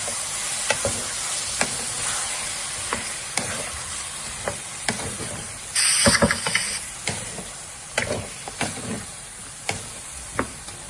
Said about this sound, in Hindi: एक बाउल टमाटरों का पेस्ट डालकर इसे थोड़ा सा हिला लें।